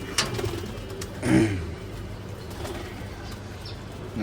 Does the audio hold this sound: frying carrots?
no